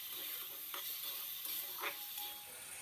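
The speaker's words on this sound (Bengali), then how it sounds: "এখন টমেটো বাটাটা দেওয়ার পরে আবার সব কিছু একসাথে ভালো করে মিশিয়ে কিছুক্ষণ ভেজে নিচ্ছি" Okra and potato pieces with tomato paste are stirred and fried in a pan, a steady close sizzle broken by a few soft scraping stirs, with no voices.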